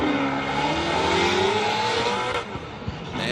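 A Formula Drift pro car at Atlanta qualifying revs hard and accelerates through a corner, its engine note loud and sustained with rising pitch, then dropping into rougher bursts near the end.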